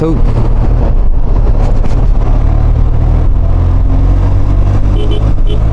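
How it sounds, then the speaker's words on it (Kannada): Dense road traffic on entering Mumbai, heard from a moving motorbike, makes a loud, continuous rumble of engines and wind noise with no breaks, running steadily throughout. "ಇನ್ನು ಮುಂಬೈ ಎಂಟ್ರಿ ಆಗ್ದ ತಕ್ಷಣ ಶುರು ಆಯ್ತಪ್ಪ ಟ್ರಾಫಿಕ್ ಇಲ್ಲಿ"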